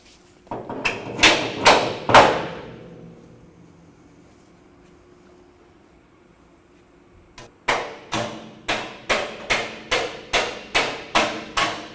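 Sharp metallic hammer strikes driving a retaining pin out of the slots on a Canflex Sea Slug ocean towable storage box: four hard blows, a long pause, then a steady run of about eleven evenly spaced ringing hits.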